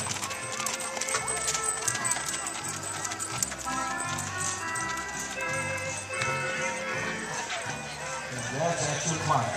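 Rhythmic hoofbeats of a Spotted Saddle Horse clip-clop steadily beneath a continuous loudspeaker voice and crowd noise at a horse show competition, the announcer talking throughout.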